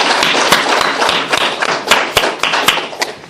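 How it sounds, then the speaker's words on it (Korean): Applause from a church congregation at a testimony service: dense, close rhythmic clapping fills the whole stretch, with sharp individual claps standing out, loud and continuous without talk. "우리 하나님께 영광의 박수 올리도록 하겠습니다"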